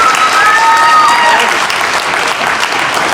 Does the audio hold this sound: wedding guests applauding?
yes